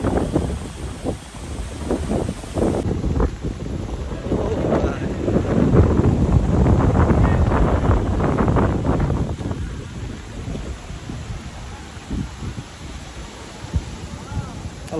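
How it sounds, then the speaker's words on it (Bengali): Wind blows outdoors in a cool open space, buffeting the microphone in a loud, rough rumble that swells toward the middle and then eases into softer gusts. "সেই একটা বাতাস হইতেছে।"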